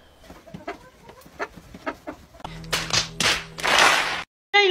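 Chicken clucking in a short comedy sketch: a run of soft, evenly spaced clucks, then a few louder, harsher squawks close by, ending abruptly, with no talking.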